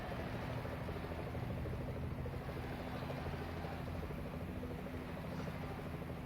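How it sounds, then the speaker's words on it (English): A helicopter hovers above a cycling peloton in the Pro Cycling Manager 2012 video game, giving a steady, loud rotor drone with a broad whooshing wash that holds unchanged throughout, with no talk over it. "we hear more of the chopper"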